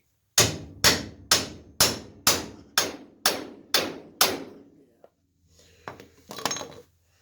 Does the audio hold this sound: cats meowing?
no